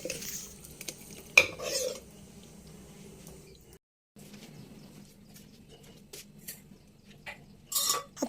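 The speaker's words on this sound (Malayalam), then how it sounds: "അതിനകത്തേക്ക് ഞാൻ കുറച്ച് ഉപ്പും കുറച്ച് പഞ്ചസാരയും കൂടെ ഇട്ട് കൊടുത്തിട്ട് നല്ലവണ്ണം ഒന്ന് ഇളക്കിയെടുക്കുകയാണ്" Fermented rice batter for vellayappam, with added salt and sugar, being stirred in a bowl: soft, quiet scraping and occasional utensil clinks, with one sharp knock early and a brief pause midway.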